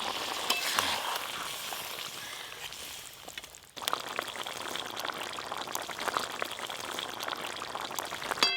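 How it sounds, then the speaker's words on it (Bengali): Mustard paste thinned with water poured over tilapia curry in a pan, a soft splash followed by steady, crackling sizzling and bubbling that continues to the end. "এবার সর্ষে বাটা জল দিয়ে গুলে নিয়েছি, ওপর দিয়ে দিয়ে দেব।"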